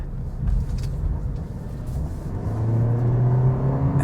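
A 2023 Toyota Prius hybrid revs up hard under full throttle, a steady close whirring rumble rising in pitch as it accelerates.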